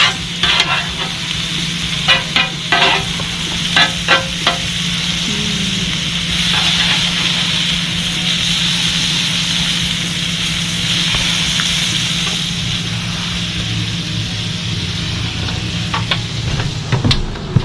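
A fish fillet fries on a campsite grill at Lake Hartwell, with a loud, continuous sizzle and a few scraping clicks near the start and end.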